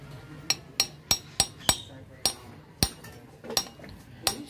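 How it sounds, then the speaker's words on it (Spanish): A hammer strikes a homemade workshop tool seated on a broken spark plug stuck in a cylinder head, giving about ten sharp, ringing metallic knocks at a fairly steady pace, close and loud over a quiet background. "le damos un par de golpes con el martillo."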